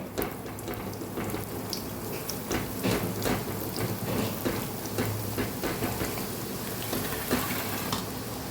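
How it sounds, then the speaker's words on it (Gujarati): Garlic chutney is stirred into oil in a pan over a very low gas flame for Kathiyawadi garlic puffed rice, giving a continuous close sizzle with crackling pops and no voices. "આપણે તેલની અંદર મિક્સ કરી દેવાનું છે"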